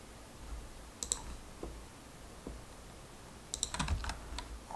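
Mouse clicks and light keyboard tapping at a computer while a Pygame puzzle game is being built and tested, a few quiet, close taps and clicks in short clusters over faint room hiss.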